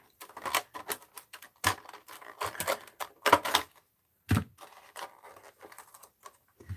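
Tim Holtz scissors cutting through the spine of a recipe art journal, heard as irregular, crisp, close-up snips and crunches separated by short pauses.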